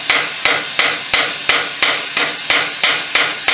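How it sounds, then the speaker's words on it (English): A hammer strikes a steel rose stem in a forge setting, landing about ten sharp, loud blows at an even, brisk rhythm, each ringing briefly before the next, with no talk. "Keep hammering that down."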